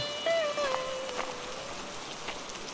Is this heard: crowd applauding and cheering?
no